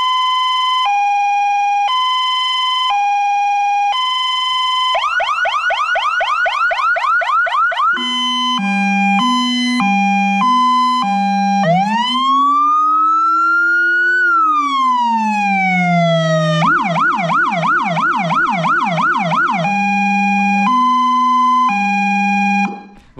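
Emergency siren of a volunteer fire brigade truck fitted with low-frequency Rumbler speakers: loud electronic tones cycle through steady two-tone hi-lo beeps, rapid yelping warbles and a long rising-and-falling wail, with a deep low component underneath.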